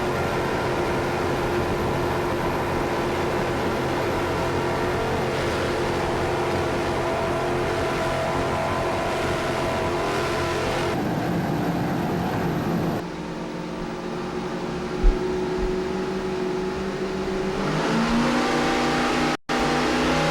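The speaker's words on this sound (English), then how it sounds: "Larry Fontecha laying the throttles to the wood at the start." Loud, steady roar of powerboat race-boat engines at full throttle at a race start in Biloxi, Mississippi, the pitch climbing and shifting as throttles open, with a brief thump near the end.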